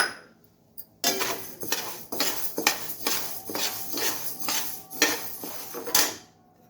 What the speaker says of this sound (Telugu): బియ్యము కాసేపు వేయించుకుందాము